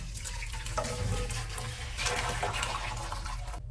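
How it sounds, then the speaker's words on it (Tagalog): Hot water heated for cooking pancit bihon pours steadily into a pot, a continuous close splashing and gushing rush lasting a few seconds with no talk. "Ito na po yung aking pinainit na tubig."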